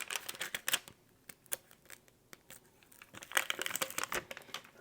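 Adhesive backing peels off a golf hat protector in a quiet, close crackle of crinkly plastic, with soft rustling bursts coming in uneven spurts.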